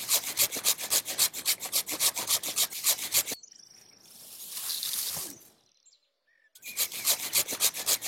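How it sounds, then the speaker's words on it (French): Hand saw cutting through a thick olive tree branch during pruning, a steady close back-and-forth rasp of rapid strokes, pausing briefly before the sawing resumes. "je change d'outil et je prends ma scie."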